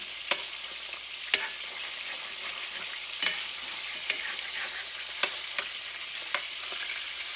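Meatballs fry in a pan with a steady, close hiss of sizzling grease, broken by sharp clicks and scrapes from stirring, and no voices.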